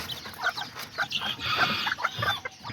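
Chickens and their young chicks in a backyard coop, Azteca and Serama fowl, cluck and chirp continuously in a busy, close chorus with overlapping short calls and no voices.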